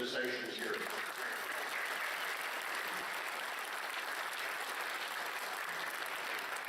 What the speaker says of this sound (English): give a big round of applause for everybody here